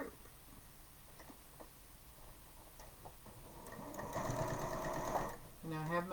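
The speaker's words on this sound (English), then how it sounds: "Now I have my sewing machine turned down a little bit so it's not too loud while we're on live." A home sewing machine, turned down low, stitches in short bursts and then runs faster and louder near the end, a close mechanical whirring and ticking beneath quiet talk.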